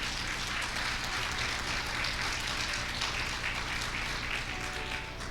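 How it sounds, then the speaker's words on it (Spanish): Steady applause from a church congregation fills the space, a dense continuous patter of clapping at moderate level without pause. "¿Cuántos aplauden la gloria del Señor?"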